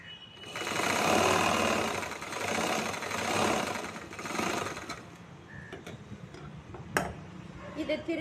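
A sewing machine runs a stitch along the edge of a chudithar, humming in a close, continuous run that swells and fades, then slows into scattered ticks and clicks toward the end.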